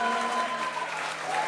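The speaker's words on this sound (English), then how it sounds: "have a big round of applause for the groom's grandparents, Dorothy and Carl Levendale." Wedding guests applaud the groom's grandparents at a Plimoth Plantation reception, a steady, dense wash of clapping held at even strength for the whole stretch, with a faint tone lingering underneath.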